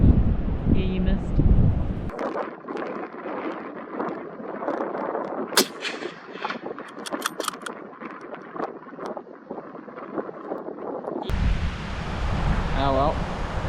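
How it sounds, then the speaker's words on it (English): Wind gusts across an open hillside during a tahr hunt, a loud, steady rushing buffet on the microphone that dips in the middle and swells again, with some voices at the start. "as you can tell, a bit of wind"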